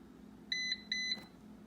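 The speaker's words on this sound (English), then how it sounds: "Hold these two down at the same time until you hear a beep." Two short electronic beeps in quick succession from the control panel of an Instant Vortex Plus air fryer, clear and close against a quiet room.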